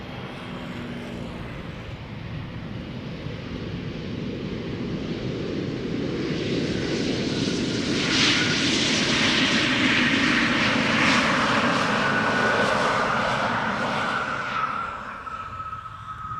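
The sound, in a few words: KLM airliner arriving at Amsterdam Schiphol Airport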